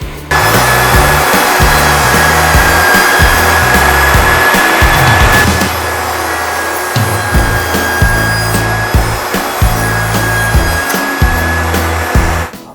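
Wood pieces for a Christmas tree decoration are cut with a power saw and its miter gauge set to 40 degrees, making a loud, sustained whine with rough, rhythmic grinding through each cut.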